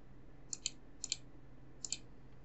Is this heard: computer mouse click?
yes